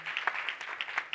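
Brief audience applause at a women-in-energy event, welcoming the chairperson of PetroSA; scattered claps, fairly faint, lasting just over a second.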